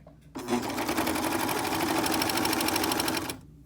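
A sewing machine runs steadily along the loose part of a fabric face mask band, one continuous loud burst of rapid stitching that starts abruptly and stops just as suddenly, with no talking.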